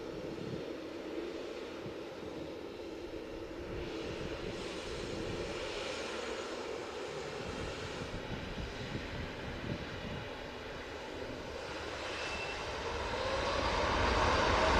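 A TUI airliner lines up and takes off at Manchester Airport bound for Punta Cana, its engines a steady distant roar with wind noise that builds noticeably louder near the end as it powers up.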